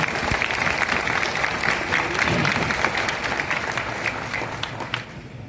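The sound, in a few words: applause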